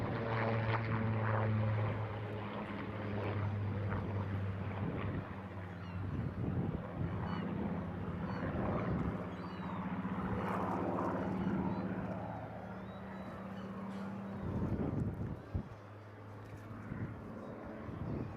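A Supermarine-built Second World War unarmed high-altitude reconnaissance aircraft flies past at a seaside airshow, its propeller engine droning steadily throughout, buffeted by wind noise on the microphone.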